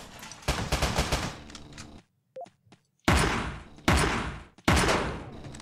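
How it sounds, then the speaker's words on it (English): Rapid bursts of gunfire from the top-down shooter game Teleglitch, in the Arena mode, loud and close in dense rattling volleys, broken by a short quiet gap with a few faint clicks before heavier bursts resume. "I better start shooting the crap out of these guys."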